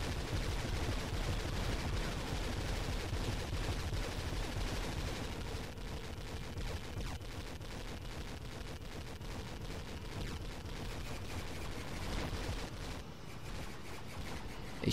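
Blaster laser fire in Star Wars Battlefront II (Pegasus mod), rapid continuous volleys of shots layered over loud battle noise at a steady intensity for the whole stretch.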